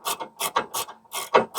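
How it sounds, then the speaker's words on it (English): A ratcheting wrench runs rusty nuts off a Ford F-250 Super Duty. It gives close, dry rasping clicks in short bursts of about six strokes, each quick and even. "I'm going to have to run them all the way out with a wrench."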